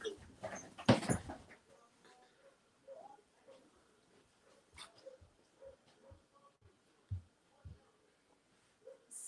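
Indoor dog whimpering and yipping in faint, scattered bursts around a house, with a louder clattering moment early on and a person speaking briefly.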